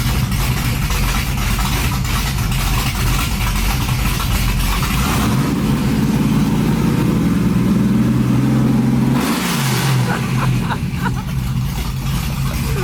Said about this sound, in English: I forgot what this truck even sounded like